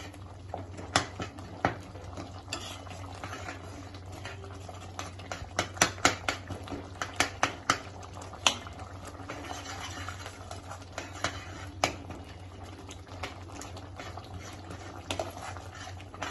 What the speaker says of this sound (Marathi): आता ह्या शिजत शिजतच गाठी मोडणार आहोत